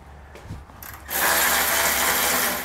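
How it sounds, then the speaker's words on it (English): A ratchet with a 13 mm socket removing bumper beam bolts on a 2020 Buick Envision, a few faint clicks and then a loud, close, continuous rapid ratcheting. "We're gonna use a 13 millimeter socket to remove them."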